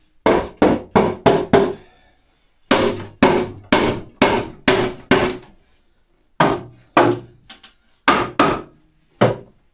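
Hammer blows strike wood in quick bursts of four to six hits, separated by short pauses, loud and close, while building shelves in a cabin.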